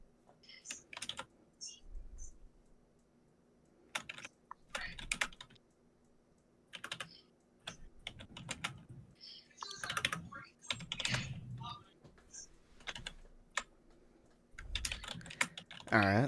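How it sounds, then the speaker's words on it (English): Bursts of typing on a computer keyboard at close range, irregular clusters of key clicks separated by short pauses, with a few soft voice murmurs in between. "Let me just type this down."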